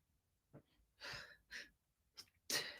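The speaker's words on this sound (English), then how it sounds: "I have to sneeze" A single person's sneeze, close and fairly quiet, with a sharp inhaled gasp building up to one explosive burst at the end and short breaths between.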